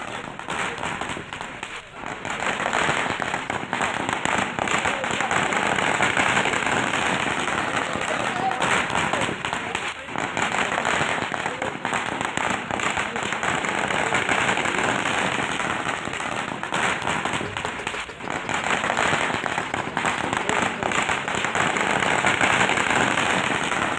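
Firecrackers crackle in a continuous dense barrage as party workers celebrate the putting up of a new flex banner at a street gathering, a loud sustained rattling with occasional sharper bursts and crowd noise mixed in.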